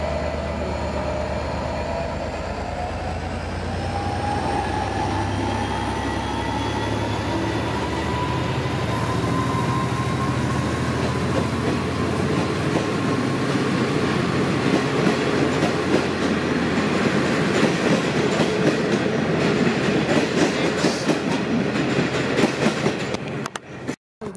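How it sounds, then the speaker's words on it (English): An express V/Line passenger train runs non-stop through South Geelong station with a continuous loud roar and rumbling wheel noise that swells and holds for over twenty seconds before cutting off abruptly. "Express flying through South Geelong. Non-stop."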